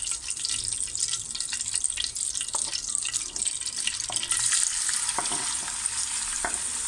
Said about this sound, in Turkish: tavamıza 2 yemek kaşığı kadar margarin ekledik. Şimdi de mantarlarımızı ilave ediyoruz.